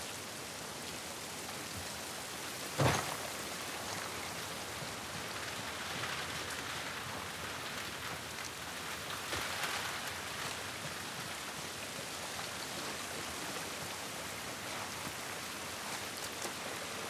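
Steady rain falls in the video game The Last of Us Part I, a constant even hiss of rainfall with one brief sharp knock early on and no voices.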